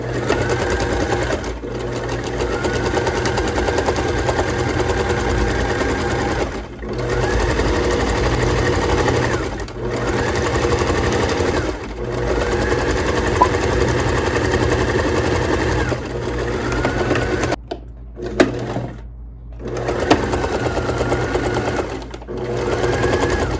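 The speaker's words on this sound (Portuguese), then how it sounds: "vamos para a máquina costurar essa parte" Sewing machine stitching doll fabric in several rapid bursts, each a loud buzzing whir a few seconds long, separated by short pauses and brief handling noises, close to the listener.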